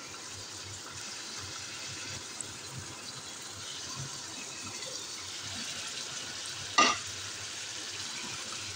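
Golden fried onions being stirred into chicken in a pan for a dhaba-style chicken dish, a soft steady sizzle with light scraping, and a short sharp clatter near the end.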